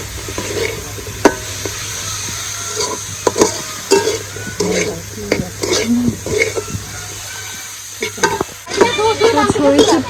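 Mustard greens bhaji frying and being stirred in a pan, market-style, with a steady sizzle broken by repeated scrapes and clinks of a spatula against the metal close by.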